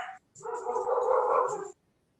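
Several pet dogs howl together indoors, a short yelp followed by one sustained, wavering howl of over a second that cuts off abruptly, fairly close and clear.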